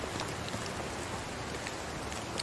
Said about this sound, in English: Let's head inside, escape the rain